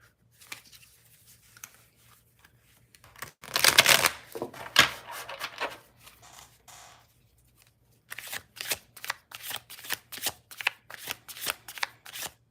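Tarot deck being shuffled up close: a dense burst of riffling around the middle, then a steady run of crisp, evenly spaced card slaps, with no talking.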